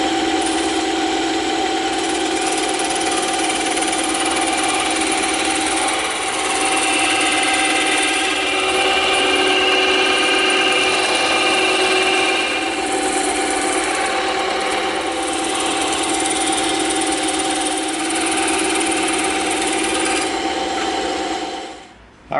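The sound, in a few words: bandsaw cutting EVA foam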